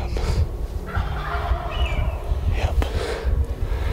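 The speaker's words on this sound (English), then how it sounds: "had some turkeys gobbling" Wild turkeys gobble in a few rapid, rattling bursts, fairly close and loud, against outdoor background noise.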